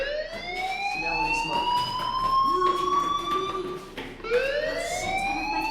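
A fire alarm wails in the video game Vampyr, its rising, sweeping electronic tone repeating loud and steady in cycles, with a brief dip near the end before it resumes.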